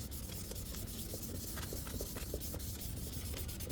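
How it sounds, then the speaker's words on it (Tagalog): Hand sanding of clear coat on a carbon-skinned Honda Giorno 125 scooter panel with light pressure, a steady close rubbing rasp with faint repeated strokes and no talk. "Lihain na natin."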